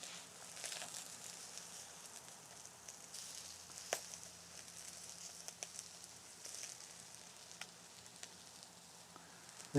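Meat coated in a sugary sauce sizzles on an outdoor grill, a faint, steady crackling hiss running throughout with scattered soft pops.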